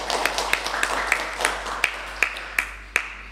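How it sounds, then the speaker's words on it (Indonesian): Scattered hand clapping, a handful of separate claps at an uneven pace over a soft background murmur, fairly close. "Jadi tepuk tangan dulu dong."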